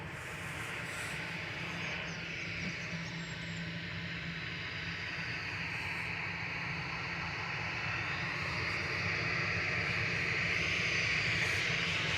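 A Ryanair airliner taking off from Manchester Airport for Belfast produces a steady, rumbling engine roar that builds gradually in loudness over the span, heard alone without voices.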